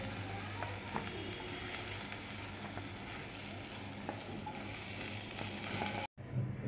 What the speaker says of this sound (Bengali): এখন নাড়িয়ে চাড়িয়ে বেগুনটা ভেজে নেব